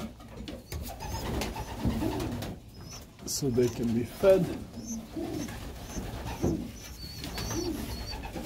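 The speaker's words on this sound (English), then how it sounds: "beautiful, beautiful young birds" Young pigeons in a loft give repeated soft, throaty coos and murmurs at close range, irregular and overlapping, while someone talks briefly among them.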